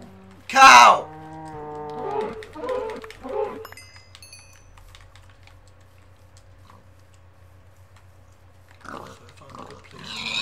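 A Minecraft cow moos loudly and nearby at the opening, followed by a few grunting animal calls and then a stretch of quiet game ambience before more animal noise at the end.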